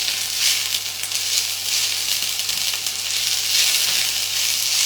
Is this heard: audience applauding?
no